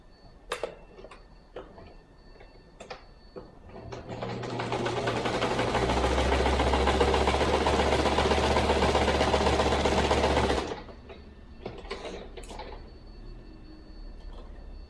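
Sewing machine stitching a stuffed animal's leg onto its body: a few light clicks and handling taps, then a steady whirring motor run lasting about six seconds before stopping, followed by more small clicks.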